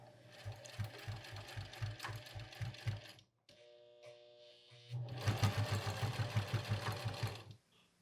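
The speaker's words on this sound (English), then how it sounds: "they're literally just going to be sewed right on top of the edge binding" Sewing machine stitching nylon webbing straight onto the edge binding of a tear-away utility pouch, running in two fast rhythmic bursts of rapid needle thumps separated by a short pause.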